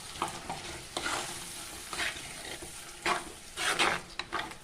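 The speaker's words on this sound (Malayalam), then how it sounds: "അതിട്ട് നല്ലപോലെ ഇതിനകത്ത് വഴറ്റിയെടുക്കണം" Chili and coriander powder paste sautéed in oil, a spoon scraping and stirring through it in repeated bursts over a continuous close sizzle, with no talking.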